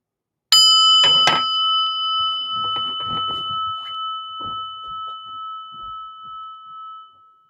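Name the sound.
bell ringing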